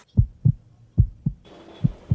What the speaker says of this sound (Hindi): सब शांत था सिवाय भास्कर के खुद की दिल की धड़कन और उखड़ी हुई सांसों के अलावा।